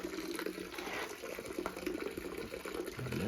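Liquid is poured off while beeswax is harvested, giving a short, steady splashing and trickling flow close by.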